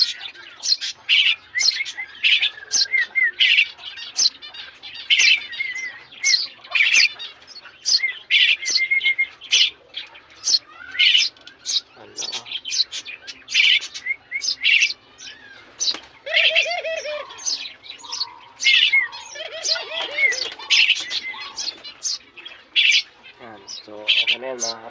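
Three young tree sparrow chicks chirp and cheep close by in quick, repeated bursts, with a few wing flutters and faint movement between the calls.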